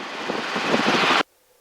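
Helicopter in flight at 100 feet over Point Vicente, LA Harbor, a steady, loud whirring engine and rotor roar that cuts off abruptly after about a second.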